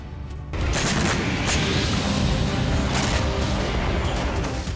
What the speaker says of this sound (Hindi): यूक्रेन की जमीन पर एक जोरदार धमाका हुआ।